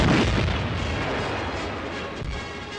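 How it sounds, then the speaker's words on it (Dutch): Staged explosions and artillery fire on a WWII film set, a loud continuous rumbling roar of blasts that starts strongest and slowly eases over a few seconds, with no voices. "Explosies worden vakkundig nagebootst."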